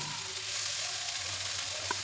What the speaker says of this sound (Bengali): লবণ হলুদ দিয়ে ভেজে নিয়ে তারপর কিন্তু এই লাল শাকটা দিয়ে দিলাম